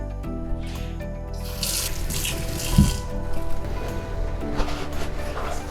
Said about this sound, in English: you can give it a quick rinse just to make sure there's no dust